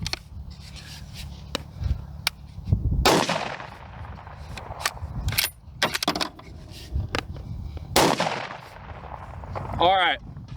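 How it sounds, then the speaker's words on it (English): An unsuppressed .308 rifle with an 18-inch barrel fires into dirt outdoors. Two very loud, concussive shots ring out several seconds apart, with lighter metallic clinks and handling noise between them. "We're just gonna shoot into the dirt so you guys can get an idea of what this sounds like unsuppressed."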